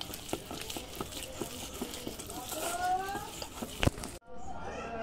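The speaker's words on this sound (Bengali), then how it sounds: "তো এভাবে ভালো করে আমি মশলা দিয়ে মাখিয়ে নিই। এভাবে ভালো করে নাড়িয়ে নাড়িয়ে কত সুন্দর হয়ে যাবে দেখো।" Cauliflower pieces are stirred and tossed in spice mix in a bowl, soft scraping and light patter close by, with faint voices and a sharp knock just before a brief cutoff.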